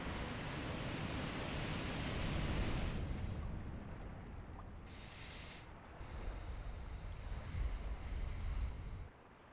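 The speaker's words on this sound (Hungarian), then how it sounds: "És itt a víz ki fog szépen áramolni." Water rushes out in the New Londo Ruins of the Dark Souls video game, a loud, steady broadband roar with surging swells that runs through most of the stretch and drops away near the end.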